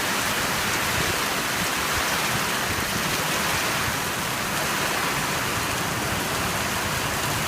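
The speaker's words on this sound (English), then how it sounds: "The rain is really coming down strong now." Heavy rain pouring steadily during a Northeast Texas thunderstorm, a dense even hiss of downpour on surfaces, loud and constant with no voices.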